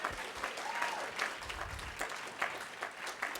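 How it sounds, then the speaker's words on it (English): An audience at a union event claps steadily, a dense run of hand claps lasting a few seconds with no speech over it. "that deserves a hand clap"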